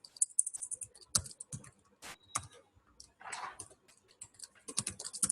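Typing on a computer keyboard up close, bursts of quick clicking keystrokes with short pauses between, clear and alone with no talk.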